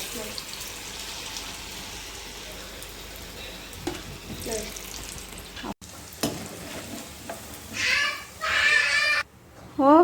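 Peanut and cashew pakoda frying in hot oil, a continuous bubbling sizzle with occasional stirring scrapes, and a person speaking briefly over it near the end.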